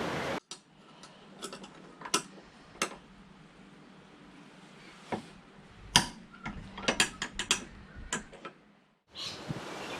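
Ratchet wrench clicking in quick bursts while a strut brace is removed from a Triumph 2500 MK I car, close and crisp, with short pauses and metallic knocks between runs.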